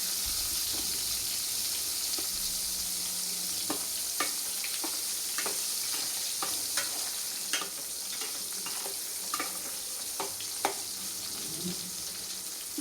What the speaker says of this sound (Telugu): చిన్న మంటలోనే వేపుకోవాలి.